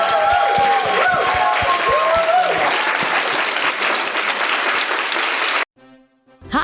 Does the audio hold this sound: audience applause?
yes